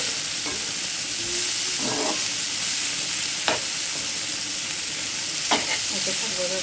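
Tomato and other ingredients sizzle steadily in a frying pan for a rui fish bhuna, with a few louder stirring scrapes breaking through the continuous hiss.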